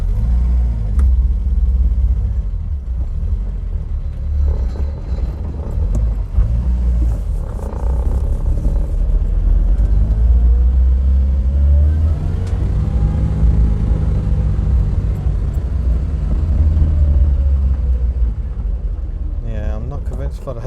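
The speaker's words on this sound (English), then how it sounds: "Let's go for a drive." Car being driven after cooling system work, a deep rumbling engine and road drone dominating throughout, with rises as the engine revs, while a person talks intermittently over it.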